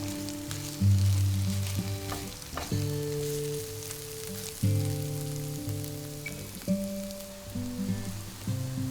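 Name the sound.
ground garlic sautéing in a pan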